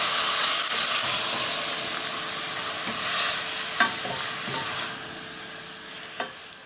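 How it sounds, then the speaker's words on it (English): Beef curry with curry powder sizzles and hisses in a pan while being stirred, steady frying noise with a few soft scraping knocks from the spoon, no talking. "And we'll just stir this all up."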